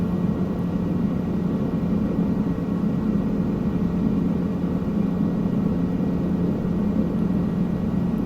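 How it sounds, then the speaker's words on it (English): A helicopter in the video game Microsoft Flight Simulator 2020 drones steadily in flight over New Zealand, a loud continuous low engine and rotor rumble with no variation. "I haven't done much sightseeing in a helicopter, but I think I might start doing it more often."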